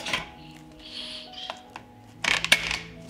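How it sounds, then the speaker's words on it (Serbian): A few sharp metallic clicks and clanks come close up, ending in a louder cluster of clinks as a pressure cooker lid is closed. "Zatvorit ću ekspres lonac"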